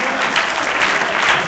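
A panel audience claps loudly and steadily throughout, a dense, sustained round of applause from a crowd in a conference hall.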